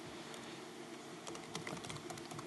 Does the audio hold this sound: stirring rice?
no